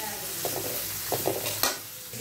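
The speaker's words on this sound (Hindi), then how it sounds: "मैं यहाँ पे प्याज और मिर्ची यहाँ पे भून लेती हूँ।" Onions and green chillies sautéing in a pan for an easy pasta, a close, continuous sizzle with several light stirring scrapes and clinks of the spatula, no talking.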